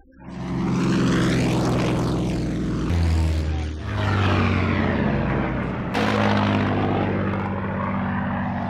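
A propeller fighter plane drones loudly overhead, its engine pitch sweeping and shifting as it passes close by, chasing a German Luftwaffe aircraft.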